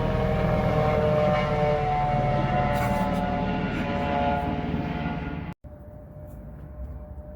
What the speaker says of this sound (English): So the helicopter is still circling